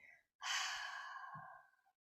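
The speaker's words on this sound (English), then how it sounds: "gently releasing the breath, maybe through the mouth or through the nose, exhaling" A slow, steady exhale released during a guided breathing exercise, close and soft, lasting over a second after a brief pause, with a faint low murmur near its end.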